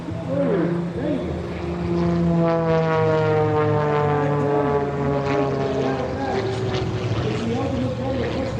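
An aerobatic propeller airplane flying a Humpty Bump with a spin on the way down, its engine drone sweeping steadily downward in pitch as it passes, loud and continuous, with an announcer talking over it.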